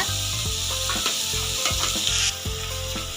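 Ivy gourd (kovakkai) sautés in a pan with a steady, dense sizzle, broken by rhythmic scraping strokes of a spatula stirring, close and alone.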